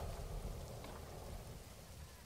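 Steady rain falls in the Planet Zoo video game as a constant, even wash of noise with a low rumbling layer, continuous and unbroken throughout.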